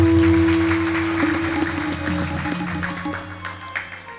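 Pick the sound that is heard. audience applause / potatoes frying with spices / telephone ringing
audience applause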